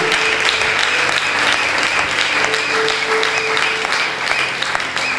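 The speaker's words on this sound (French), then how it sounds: "Acclamez pour notre Seigneur." A congregation at a special church worship service applauds and cheers, producing dense, sustained clapping from a crowd that continues steadily throughout without a break.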